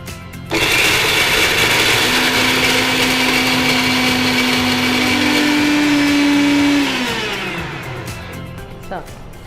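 A kitchen mixer grinds jackfruit seeds into a fine powder, a loud, steady high-pitched whir that holds for several seconds before the motor winds down and stops.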